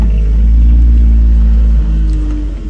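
A Jeep Rubicon's engine rumbling loud and close as it drives off, a steady low drone that holds level and then eases slightly at the end, with no talk.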